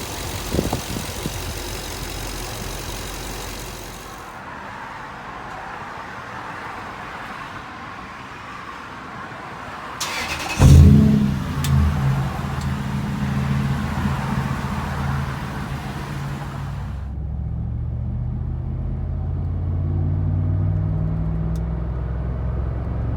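A Lexus GX470 V8 fitted with a throttle body spacer cranks and catches with a sharp burst, then settles into a steady low idle that continues alone for several seconds.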